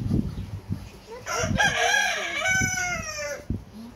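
A rooster crows once nearby, a drawn-out cock-a-doodle-doo in the middle, with a few soft clucks and knocks around it near a mountain elementary school in Busan.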